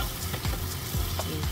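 Chow mein being stirred and tossed in a hot pan, with a steady sizzle of frying under repeated scraping strokes of the spatula across the metal, close and continuous.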